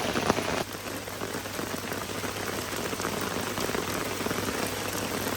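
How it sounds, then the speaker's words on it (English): Heavy rain falls steadily at a campsite as a dense, constant patter that drums close by on a surface, loud and unbroken, with no voices. "I said I wanted rain, didn't I?"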